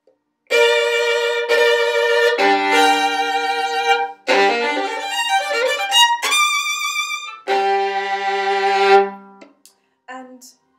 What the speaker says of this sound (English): there's this very, very quick, rapid arpeggio up, they start the arpeggio before the beat.